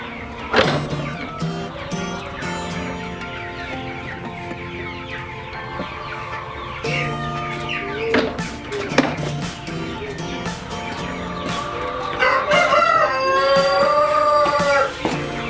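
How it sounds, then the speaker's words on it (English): Chickens cluck and call around a backyard, with a rooster-like crowing rising near the end, mixed with steady outdoor background noise and no clear talk. "Chickens."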